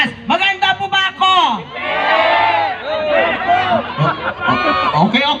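A beach crowd at a Mr and Ms Bikini pageant at White Beach, Puerto Galera, shouting, whooping and cheering loudly in ragged overlapping bursts, with excited voices rising and falling close by.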